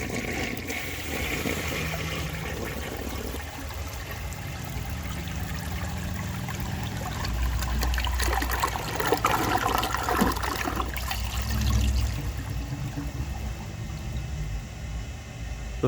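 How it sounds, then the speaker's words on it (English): A 1960 Rheem-Richmond Claymore toilet fitted with a Mansfield flush tower and brass flush valve flushes in a steady, close rush of water that swirls and gurgles for many seconds, with no talking. "The flush is really awesome, but it has a weird siphon."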